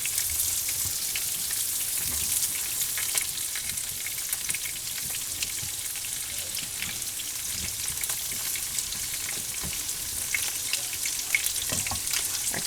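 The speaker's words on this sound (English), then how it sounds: "carrots are browning" Carrots brown in a hot pan while a pot of liquid simmers nearby, giving a steady, close frying sizzle with faint crackles throughout and no talking.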